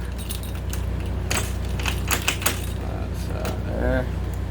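Keys jangle near the door of a 2022 Gulf Stream Trailmaster Superlite Amerilite 199DD travel trailer while its deadbolt is unlocked, giving several bright metallic clinks and rattles over steady background hum.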